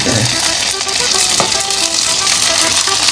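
Fuchka puffs frying in hot oil, a loud, steady broadband sizzle that fills the whole clip with small crackles and bubbling throughout.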